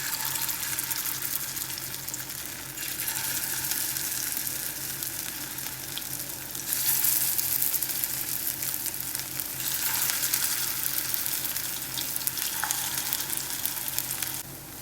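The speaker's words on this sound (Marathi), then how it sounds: "आपण या टिक्क्या शॅलो फ्राय करून घेऊयात." Veg pea cutlets shallow frying in a pan give a steady, close sizzle and crackle of oil throughout, with a few soft spatula stirs and no talking.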